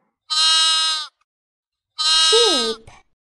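Two loud, close sheep bleats sound alone, separated by a short silence; the second is longer and wavering.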